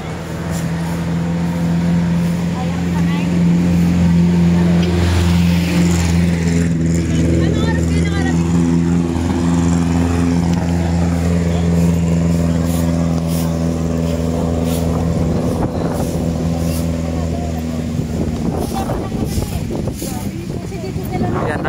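A jeep climbs uphill with its engine droning loud and steady throughout, its pitch shifting as it labors, while people talk over the engine noise.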